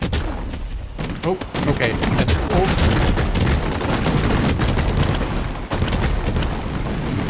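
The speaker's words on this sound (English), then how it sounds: "we're going to be playing with some fireworks in Fireworks Mania" Rapid volleys of fireworks blasting in the Fireworks Mania game on the 4th of July, dense overlapping booms and crackles close and loud for several seconds, with a brief spoken remark near the start.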